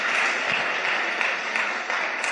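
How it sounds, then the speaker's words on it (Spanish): Church congregation clapping in worship, dense continuous applause of many hands filling the room at a steady, loud level. "Dale palmas al Señor."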